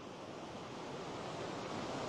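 The Naryn river rushes beneath a swaying bridge, a constant, loud, broadband roar of fast-flowing water with no pauses and no voices.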